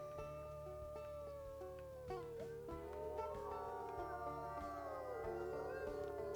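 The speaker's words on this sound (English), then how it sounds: "Solstice starting off that howl." Wolves in the WolfQuest game howl in a chorus, long rising and falling tones overlapping as a second voice joins in, fairly faint and distant.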